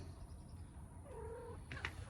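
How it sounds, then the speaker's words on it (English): Outdoors, a cat gives a faint, brief meow over steady low background hum, followed by a short higher squeak near the end. "Now I got to go and retrieve my cat. There's my cat."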